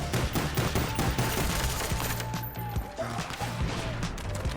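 M1911 pistol fire in Call of Duty, rapid bursts of game gunshots and mechanical clicks mixed with busy in-game action and effects, loud and continuous.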